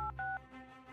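Telephone keypad dialing on a home phone, a few sharp touch-tone beeps in quick succession followed by a softer sustained tone, close and clear with no talking.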